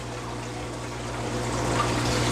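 Water trickles steadily from a drip emitter into an aquarium tank, a soft continuous liquid patter over a low pump-like hum, close and fairly quiet with no talking.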